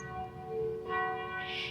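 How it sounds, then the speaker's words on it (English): Church bells toll far off, their long resonant tones blending and rising in waves, faint and unaccompanied by speech. "as you listen to the church bells in the distance."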